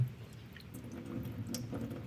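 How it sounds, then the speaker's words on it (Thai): Rinse water is poured off washed sticky rice in a small pot, giving a soft, quiet trickle and slosh with faint drips that carry on steadily for about two seconds. "เทน้ำทิ้งไปนะครับ"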